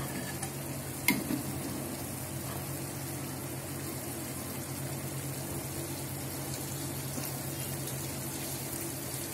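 Gram flour batter for laddu frying in hot oil, a steady low sizzle and bubbling throughout with one brief sharp clink early on, no talking.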